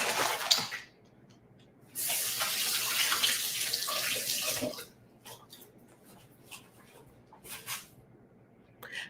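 Tap water runs into a kitchen sink as hands are washed, a loud steady gush for about three seconds after a brief splash, then fading to scattered drips and small clatters.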